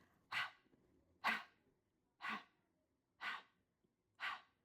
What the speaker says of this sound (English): you'll just practice a big breath out through the mouth